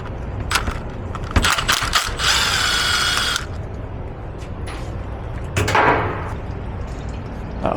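A ratchet works loose a transmission pan bolt on a Mercedes Sprinter 725 with a 9-speed transmission, giving short bursts of fast clicking and whirring close by, separated by brief clunks and pauses.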